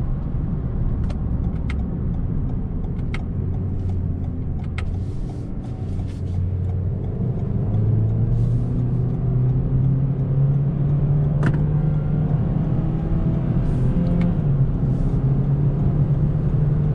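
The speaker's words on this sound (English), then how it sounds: "Definitely with sport mode, the engine is more responsive and" A 2021 Toyota Corolla in sport mode gives a steady interior engine drone that climbs in pitch as it accelerates, with road rumble underneath and a few faint clicks, no talking.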